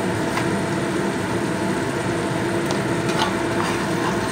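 Cumin, coriander powder and salt spice mix frying in oil in a pan, a steady loud sizzle with occasional stirring scrapes throughout, no voices.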